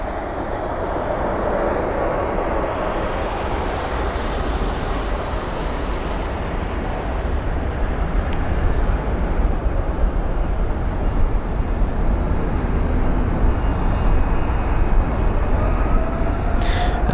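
A 16-year-old Airbus A320 airliner at London Heathrow gives a broad, rumbling jet roar that is heard from a distance and slowly builds in loudness over about seventeen seconds, steady and unbroken.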